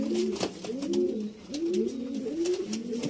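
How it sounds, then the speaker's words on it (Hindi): Pigeons coo in repeated low, rolling phrases, several calls in a row at a moderate distance, alone without talk. "फिर एक मोतियां वाले पर्च बटेरे पर्च कबूतर आ गया"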